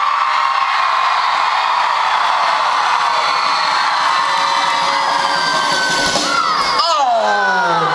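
A crowd cheers and shouts loudly and without a break, children's voices among them, with whoops and yells piling up into a rising roar near the end.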